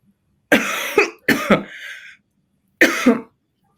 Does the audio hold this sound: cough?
yes